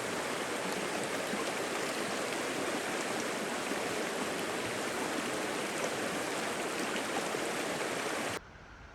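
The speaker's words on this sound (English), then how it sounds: "And Abrams Creek is just right there, so that's pretty neat." Abrams Creek flows beside a campsite in the Great Smoky Mountains, a steady broadband rush of running water that continues loud and close for several seconds before dropping off abruptly near the end.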